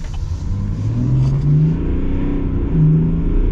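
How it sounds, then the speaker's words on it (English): A 2025 Chevy Silverado Trail Boss Duramax diesel pickup engine revs up and accelerates with a deep, steady rumble, rising twice in pitch as it pulls away close by. "you actually hear the engine a lot better. And it's a cool sound. I love diesels."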